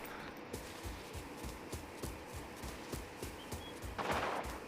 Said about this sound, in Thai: เฮ้ย เสียงปืน